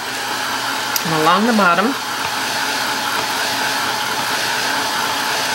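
Hair dryer blowing over wet acrylic paint on a fall pumpkin painting, a steady loud whooshing drone that runs the whole time while someone speaks briefly over it early on.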